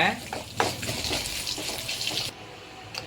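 Tempering for sambar, with mustard seeds, dried chilli, curry leaves and asafoetida frying in hot oil, makes a bright crackling sizzle with stirring clatter that quiets abruptly partway through, then a faint clink.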